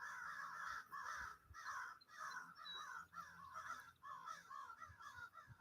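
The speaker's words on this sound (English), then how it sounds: "Crows." Crows cawing repeatedly in a steady run of harsh calls, fairly close and loud, with no talking over them.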